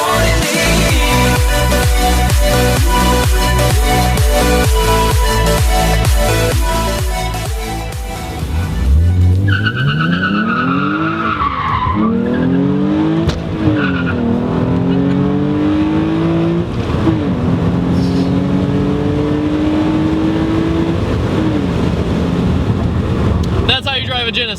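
A 2011 Hyundai Genesis Coupe Track Edition drives hard, its engine note rising and falling loudly before tires squeal and skid in long wavering screeches, with music playing early on and wind buffeting the microphone.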